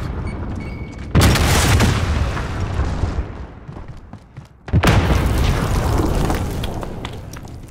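Two heavy, booming grenade blasts from a Call of Duty: Modern Warfare match, each a loud, sudden burst followed by a long rumbling tail, set several seconds apart.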